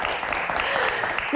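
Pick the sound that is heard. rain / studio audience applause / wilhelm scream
studio audience applause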